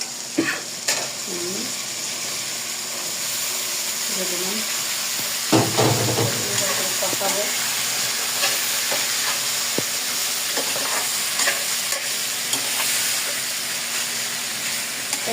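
Spice paste for a jackfruit curry sautéed in a pan, a steady sizzle and hiss with scraping stirs of a spoon scattered throughout, close by, with a brief murmur of voice near the middle.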